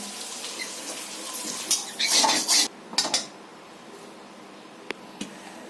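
Fried potatoes and peas are tipped out of a pan, giving a loud metallic clatter and scrape of cookware and utensils, followed by a few lighter clinks and then quiet.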